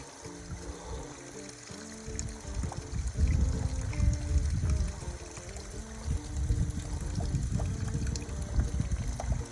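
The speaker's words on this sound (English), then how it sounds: "Kind of a nice little zen waterfall here." A small waterfall spills over rocks along a hiking trail, a steady close rushing and gurgling of water that swells slightly midway, with no talk over it.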